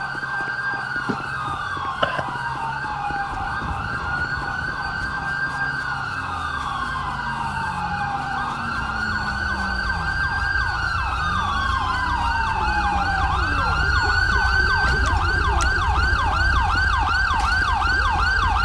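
Police sirens in GTA V with the FivePD mod: several wailing and yelping sirens overlap continuously, fairly close and steady, with a low vehicle rumble underneath and no talking.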